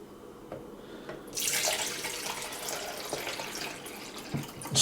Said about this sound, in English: First, we're going to pour the water in.